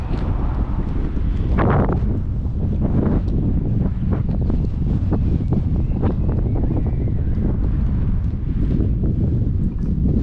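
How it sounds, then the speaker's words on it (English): Strong gusts of wind at a lake in Finland buffet the microphone continuously, a loud rumbling roar with irregular bursts throughout. "it's pretty much windy also"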